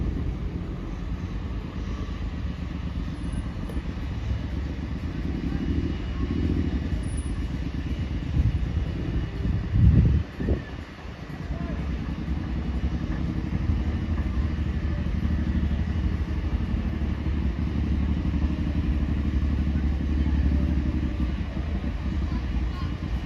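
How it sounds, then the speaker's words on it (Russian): A motorcycle rides past at the tail of a street parade behind escort cars, its engine swelling to a brief loud pass midway amid steady crowd noise and people talking nearby. "Ой, и мотоцикл сзади."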